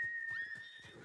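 A horse in the video game Ghost of Tsushima gives a short, clear whinny with whistling overtones, close and fairly loud over about a second.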